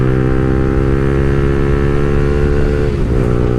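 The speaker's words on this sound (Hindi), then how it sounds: "अपना मिनी सुपर बाइक आर्यन 5 है गाइस, आर्यन 5" An Aryan 5 mini super bike runs steadily with a loud, close, constant engine drone, its pitch holding level before a slight dip near the end, with no voices.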